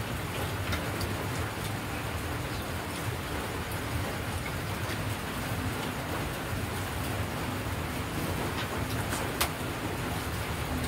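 Heavy rain driven by strong wind pours steadily and loudly, a dense continuous hiss with occasional louder drips or ticks, and no voices.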